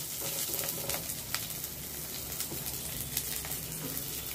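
Onions frying with curry leaves in a pan for white sorghum upma, a steady soft sizzle with faint scattered crackles throughout, no talking.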